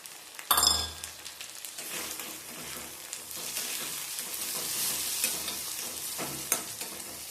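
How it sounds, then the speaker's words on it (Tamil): Tomatoes sautéing in oil with shallots and garlic hiss and crackle steadily, louder after a sharp clink and splash as they go into the pan, with recurring stirring scrapes and no voices. "இந்த தக்காளியும் நல்லா மசிஞ்சு வர்ற அளவுக்கு நம்ம வதக்கிக்கிடலாம். எண்ணெயிலே நல்லா வதக்கிடலாம்."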